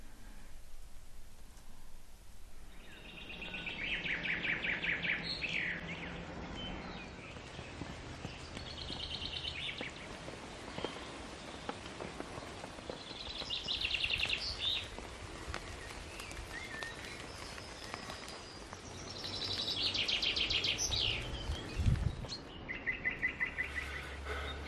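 Steady light rain patters on and around a tent during an overnight camp, a soft continuous hiss with birds chirping and calling intermittently above it, no voices.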